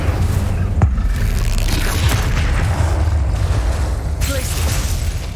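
A fire-casting Incendio spell in Hogwarts Legacy gameplay lets out a sharp crackling burst, followed by a deep rolling boom and a sustained low rumble.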